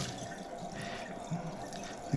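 Hot water is poured from a kettle over a paper coffee filter in a carafe to wet it, giving a gentle trickling, splashing stream that runs steadily at moderate level with a couple of small drips near the end.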